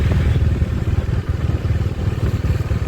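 A motorcycle engine runs steadily throughout while being ridden on the way home, a loud, continuous mid-range rumble with slight fluctuations and no voices on top.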